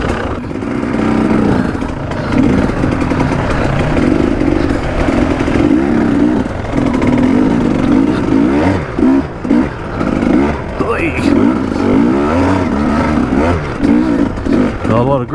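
A motorcycle on a trail ride, its engine loud and close, revving and pulling in uneven surges with mechanical clatter, while a rider talks over it.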